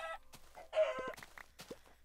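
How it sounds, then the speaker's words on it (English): A chicken in the video game Minecraft gives a few short, close clucks and squawks in quick succession over a quiet background, with no talking. "I really don't want to kill chickens,"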